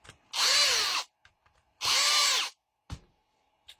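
A power screwdriver backs screws out of a Parkside power tool during repair, two sustained whirring bursts of about a second each followed by short clicks, close and loud with no talk.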